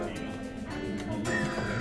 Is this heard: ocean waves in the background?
no